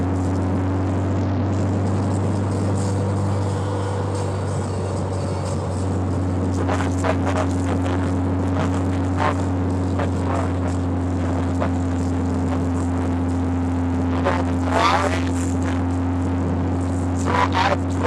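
Ferrari Mondial engine droning at a steady pitch while driving with the top down, continuous and close, with brief clicks and rattles over it.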